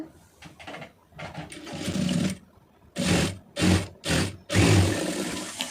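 A sewing machine stitches piping on a garment, running in short bursts: a first stretch, then four quick separate runs and a longer final run, loud and close, with brief pauses between.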